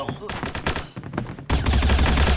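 Gunfire in the mobile shooter game Bullet Angel: rapid bursts of game shots, a broken volley, a brief lull, then sustained loud automatic fire, up close.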